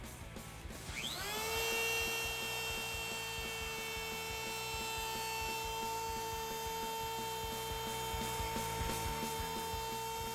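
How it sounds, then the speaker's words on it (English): A router spins up to a high steady whine while cutting a truss rod access hole in a Telecaster-style bass body, holding its pitch loudly over faint cutting noise, with no talking. "I'm just routing a little access for an Allen key"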